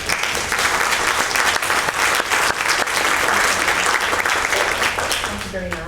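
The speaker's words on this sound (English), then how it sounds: "I think we should clap for them" A council-meeting audience applauds the city payroll team with steady, dense clapping that carries on for several seconds, and a voice begins speaking near the end.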